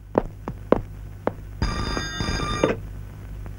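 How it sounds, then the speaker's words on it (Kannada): A telephone rings indoors in one loud, bright bell burst lasting about a second, following a few soft knocks or taps. "ಸರ್, ನನ್ನ ಫೋನ್."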